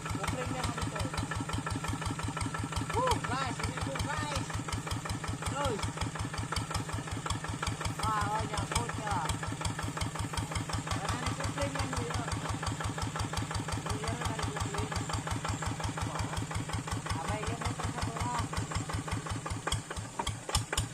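A plough tractor's engine runs steadily while it is stuck on rocks as it crosses a rocky irrigation ditch. The close, loud rhythmic chugging continues unbroken throughout, and voices talk faintly over it.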